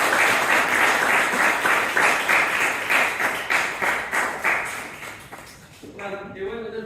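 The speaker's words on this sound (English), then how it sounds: "Can I have everyone stop with giving a really big round of applause?" An audience at a product management talk gives a big round of applause, with many hands clapping in a full, pulsing wash. It gradually tapers off, then a voice begins speaking as it dies away.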